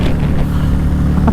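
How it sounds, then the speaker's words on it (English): Motorcycle at top speed on an open road, a loud steady engine drone with rushing wind, close and continuous with no talking. "I hit my new top speed on this motorcycle"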